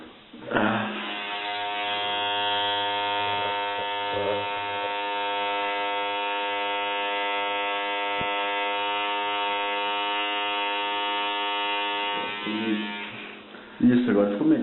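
Electric clippers run as one steady, close buzz for about twelve seconds while trimming hair at a man's neckline, starting and stopping abruptly with brief handling noise at each end.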